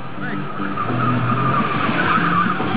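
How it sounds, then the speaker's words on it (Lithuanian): A Lada race car's tires squeal and skid loudly over a roaring engine during a slalom race, the screech sustained for a few seconds. "Na ir startas Lada į priekį. Žaibo greičiu."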